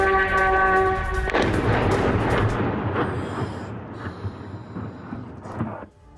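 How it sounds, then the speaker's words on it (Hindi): A heavy blast and rolling booms follow a drone attack on Kyiv, a loud low rumble that swells early then decays into a distant echoing roll with a few fainter thuds. "ड्रोन हमले के बाद जबरदस्त धमाका हुआ।"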